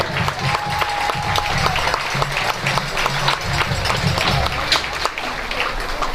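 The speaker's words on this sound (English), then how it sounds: "How about another round of applause?" Sustained crowd applause for a high school marching band at an outdoor county band festival, mixed with scattered cheers, whistles and murmuring voices.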